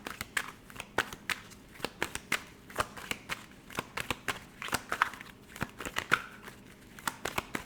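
Tarot cards being shuffled by hand, soft riffling snaps and papery flutters repeating in a steady, quick rhythm, close and fairly quiet with no talking.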